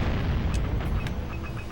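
A cannon fires repeatedly in the Jak & Daxter video game, a dense, loud, rumbling barrage of booms that blurs together throughout, with no talk over it.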